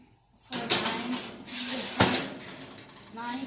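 A tray of cookie dough balls slides into a home oven with metallic clanks and scrapes of pan against rack, a few close, moderately quiet knocks and rattles over a faint hum.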